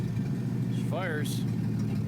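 A Jeep CJ7 engine, just fitted with a rebuilt carburetor, runs with a steady low rumble close by while someone speaks briefly over it.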